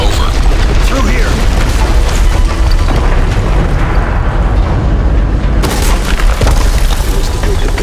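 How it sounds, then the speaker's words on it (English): A building blowing up in Call of Duty Modern Warfare 3, heard as a sustained, loud, roaring rumble of explosion and collapsing debris that fills the whole stretch without letup. "It was the biggest building blowing up."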